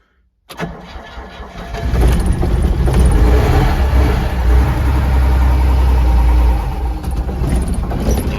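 A tractor front loader's engine cranks and fires on a new starter and battery, then settles into a loud, slightly uneven idle close by, with no talking.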